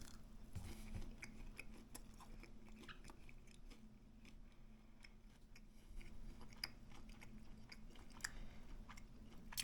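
Someone chews garlic and honey turkey tenderloin up close, with faint, steady moist chewing and small crunchy bites at low volume.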